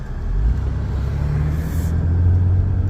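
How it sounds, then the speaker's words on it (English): Steady road traffic in Los Angeles County, a continuous low rumble of passing cars and other vehicles at moderate distance, with no talking. "you can see the difference in the traffic"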